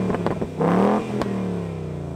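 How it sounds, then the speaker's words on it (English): A Ford Mustang Bullitt V8 revs alone, rising in a sharp throttle blip and then settling back into a steady idle rumble, loud and close. "let's listen to the Ford Mustang Bullitt"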